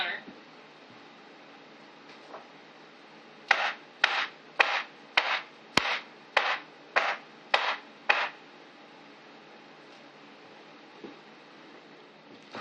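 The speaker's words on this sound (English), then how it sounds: "When I whack it down, I'm going to go pound this on a solid counter." A soap mold pounded on a solid counter: about nine sharp, evenly spaced thumps in a quick burst mid-clip, with scattered softer knocks before and after in a quiet room.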